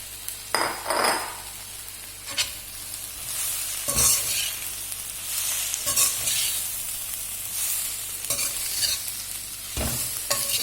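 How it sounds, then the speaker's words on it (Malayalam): Chapati pieces roast and are stirred in a pan with cooked-down tomato for a chilli chapati. A steady close sizzle runs throughout, broken by repeated scraping and clattering strokes of a spatula, with no talking. "അതിലേക്ക് നമുക്ക് ചപ്പാത്തി ഇട്ടിട്ടൊന്ന് റോസ്റ്റ് ചെയ്യാം"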